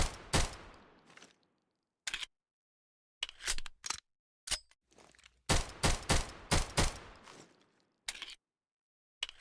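Sharp 1911 pistol shots from a Minecraft gun mod, fired in separate single cracks and quick bursts with silent gaps between, loud and close with no voices.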